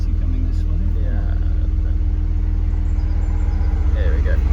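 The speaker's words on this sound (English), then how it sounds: "There's a car coming." A car approaches and passes on a road near a parked 1970 Mercedes 280SL Pagoda, a steady low rumble holding under the scene with a slight swell toward the end while people talk nearby.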